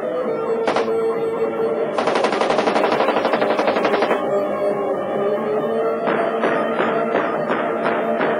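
An AK machine gun fires in loud, close bursts, one short burst first and then two longer rapid strings of shots, each with a heavy echoing report.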